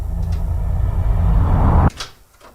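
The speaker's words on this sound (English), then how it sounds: "I'm about to open the door, okay?" A front door opened early in the morning after a knock, a loud sustained rumbling handling sound ending abruptly, followed by a few faint clicks and a quieter tail as it settles.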